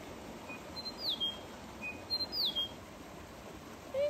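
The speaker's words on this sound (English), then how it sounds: "there's a pilot bird" Pilotbird calling in mountain forest at about 1,337 meters in Kosciuszko National Park, Australia: a few thin, faint, rising whistled notes repeated at a distance over quiet background hiss.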